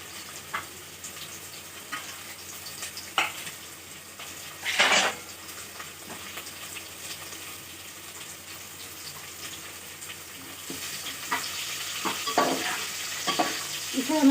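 Onions and potatoes frying in oil in a pot for white chicken pulao, heard as a soft steady sizzle with a few clanks and scrapes of a spoon stirring against the metal.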